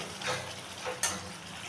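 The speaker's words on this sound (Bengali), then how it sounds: "মশলাটা কষাতে কষাতে তেল অনেকটাই ছেড়ে দিয়েছে আমি আরও কিছুক্ষণ কষিয়ে নেব" Spice masala for a paneer curry is stirred and fried in oil, giving a soft, steady sizzle with a couple of brief spoon scrapes, close and alone with no talk.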